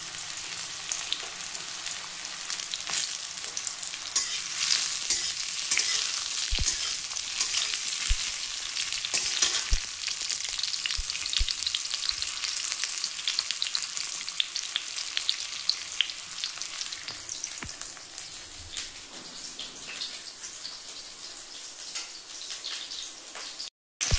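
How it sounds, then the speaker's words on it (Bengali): Ash gourd pieces frying in hot oil with a dried red chilli, a steady, close sizzling crackle that runs unbroken throughout with occasional stirring. "চাল কুমড়োগুলো ভাজবো।"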